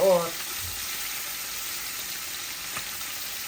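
Fish frying in a pan in a home kitchen, a steady soft sizzle after a brief voice at the start, with faint stirring.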